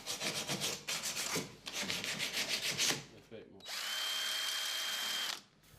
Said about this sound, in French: Poncez encore le tout.